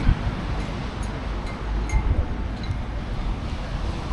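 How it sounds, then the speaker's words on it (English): Strong coastal wind gusts steadily over the microphone in Palmanova, Mallorca, as a flag whips overhead, with faint clinks and rustling in a loud, continuous roar. "It is really blowing in the wind."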